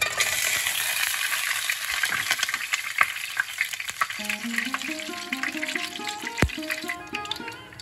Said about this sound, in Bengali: ফোড়নটা দিই।